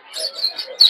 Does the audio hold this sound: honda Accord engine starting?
no